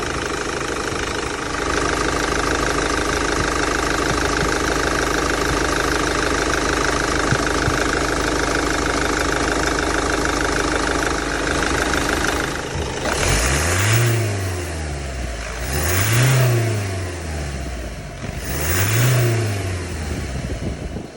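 A Vauxhall Movano van engine with an exhaust pressure fault and a cleared, previously blocked exhaust pipe idles loudly and steadily up close, then revs three times in rising and falling swells.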